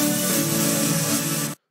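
An unmixed synth chord stack of Gold Saw and Platinum Saw layers over a pad bass, sounding as one dense, buzzy, smeared sustained chord that holds steadily and then cuts off abruptly.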